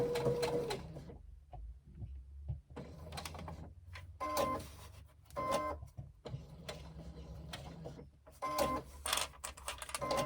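A sewing machine stitches around a fabric rectangle for a crossbody bag, running in several short mechanical bursts with brief pauses between them, close and fairly quiet.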